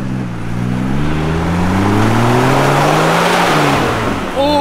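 Nissan Patrol 4x4 engine revving off-road on a rough state park track, a loud, close, continuous rising and falling growl with pitch sweeping upward as it climbs, and no talk over it.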